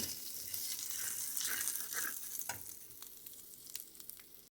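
Spices and sugar are stirred in a pan over low heat for a Bengali potato curry, making a soft, crackling sizzle with a few scraping strokes that fade toward the end.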